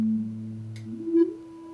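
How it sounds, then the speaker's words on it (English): A resonant synth tone in Audio Sauna glides upward as a filter sweeps, peaking in a brief bright squeal before settling into a steady held pitch. "I want you to just hear that filter sweep"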